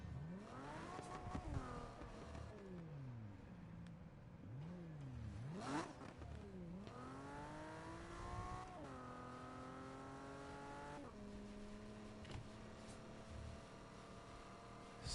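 A Porsche engine revs hard and loud, its pitch sweeping up and down through repeated throttle blips and sustained high climbs, close by and alone with no talk.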